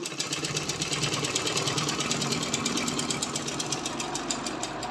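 A sewing machine stitches smooth cotton cloth for a baby's jabla dress, running in a fast, steady, continuous rattle close by, with no talking.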